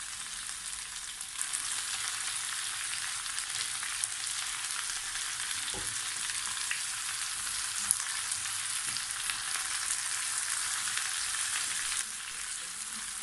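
Zucchini fries over high heat in a pan, a steady broad sizzle running throughout with a few soft stirring scrapes and knocks, close and moderately loud, with no voices.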